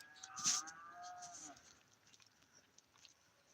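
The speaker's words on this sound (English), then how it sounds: "They're cows. That's what they do." Cows on a farm moo in one loud, drawn-out, wavering call near the start, then fade into quieter ambient noise with faint scattered sounds afterward.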